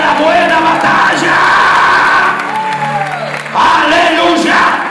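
A church congregation cheers and shouts during a sermon, a loud dense crowd roar of voices and whoops that dips briefly before surging again; any clapping is buried in the din.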